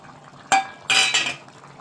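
Fried capsicum pieces tipped into a pan of mutton curry make two short clattering bursts of metal utensil against pan, bright and close, with quiet gaps around them.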